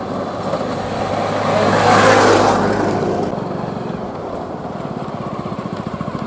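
A car engine in a Bhojpuri village comedy scene cranks and sputters without catching, a loud rough motor swell that peaks midway and then fades to a ragged, pulsing idle-like rumble, close by with no talk.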